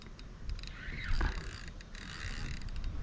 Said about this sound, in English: I'm gonna have to tighten this drag.